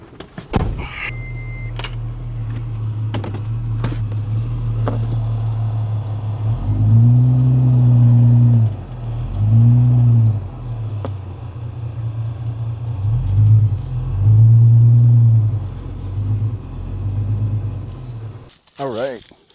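A 4x4 vehicle's engine cranks up and revs as it drives onto recovery boards to pull through an obstacle, a loud low rumble that surges in several distinct bursts, with a few clicks and a sharp noise at the end.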